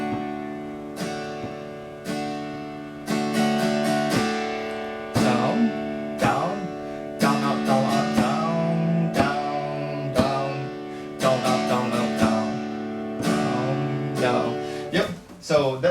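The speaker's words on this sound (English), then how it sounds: "This second strumming pattern sounds like this." Acoustic guitar strumming a rhythmic pattern of chords, with repeated down and up strokes in steady bursts and short pauses between, close and alone.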